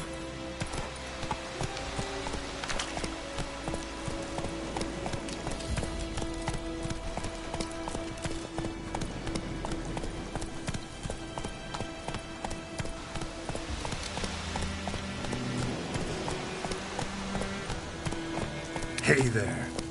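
Rhythmic hoofbeats of a horse galloping in the Witcher 3 video game on PS4 Pro pound steadily for the whole stretch, with a voice speaking over them.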